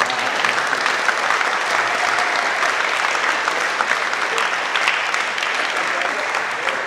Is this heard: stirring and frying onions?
no